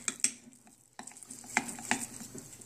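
Chocolate truffle filling being stirred in a pot: soft, close scraping and clinking of a utensil against the vessel in uneven strokes, with a brief pause partway through.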